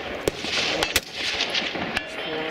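Rifle shots at an outdoor practical rifle match stage ring out as sharp, loud cracks, three or four spaced across a couple of seconds over steady wind and background rumble, with faint voices nearby.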